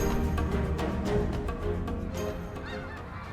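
Migrating geese at Lac-Saint-Pierre honk in a dense, overlapping chorus of repeated calls, close and fairly loud, with no talk.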